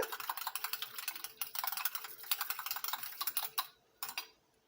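A small batch of vegetable glycerine mixture for raspberry toothpaste is stirred, giving rapid, light ticking and clicking close up, steady for several seconds before breaking into a few last taps.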